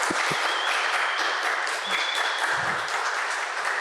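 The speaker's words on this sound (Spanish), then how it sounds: "Un fuerte aplauso para nuestros maravillosos invitados de esta primera edición." Audience applause for podcast guests at a live role-playing convention event, a dense, steady wash of clapping lasting throughout at close range, with a couple of sharp isolated claps near the start.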